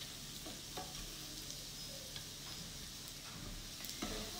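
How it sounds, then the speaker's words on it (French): Soft stirring of sweet-savory rice with lemon-zest filaments in a pot, a faint, steady scraping rustle with a few light knocks, heard alone at low level. "كنحرك مزيان، je mélange bien"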